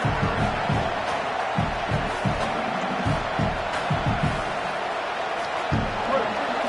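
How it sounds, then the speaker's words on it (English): A college football stadium crowd at a Texas A&M at LSU SEC night game roars steadily and loudly throughout, a broad wash of cheering with bursts and thumps, while a commentator talks over it. "this crowd coming to life here, trying to help the defense get a stop"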